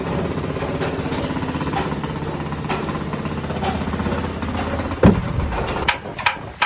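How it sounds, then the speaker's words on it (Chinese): At a shipyard, rust is knocked off a boat's hull with a rapid, machine-like chattering of hammer blows. It is loud and continuous, broken by a sharp clank near the end. "这边还是在敲敲打打做除锈"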